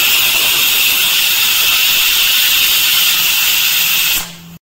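A pressure cooker of chickpeas cooked with spices, ginger and garlic vents steam in a loud, steady hiss that runs nearly unbroken, then cuts off sharply near the end, leaving a faint low hum.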